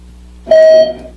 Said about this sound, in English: It just keeps beeping again.